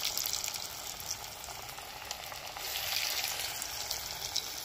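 Lentil and potato pakoras sizzle steadily in hot oil, a close, continuous crackling fry with small pops and no talking.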